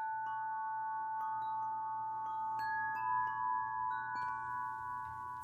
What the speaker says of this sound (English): The 30-inch, which sounds like this.